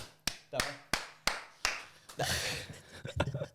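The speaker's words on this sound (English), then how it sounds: "She clapped." Sharp hand claps ring out one after another in a steady rhythm, five or six close and clear, before a burst of overlapping voices and quicker claps from a small group indoors.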